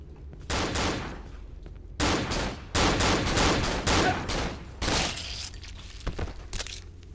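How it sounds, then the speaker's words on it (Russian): Repeated bursts of gunfire from the horror video game Cry Of Fear, set in a ghetto district, with rapid clustered shots and loud volleys separated by short pauses, close and without talk. "Они в меня так метко стреляют,"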